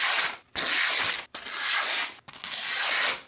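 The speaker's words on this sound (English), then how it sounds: "I decided to just use sandpaper and a belt sander" A hatchet head is sharpened by hand with sandpaper in three long, loud abrasive strokes, each followed by a short pause.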